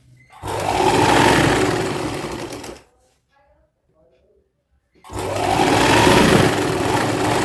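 Sewing machine stitching fabric from an old saree into a dress, running loud and steady in two long bursts separated by a couple of seconds of near silence.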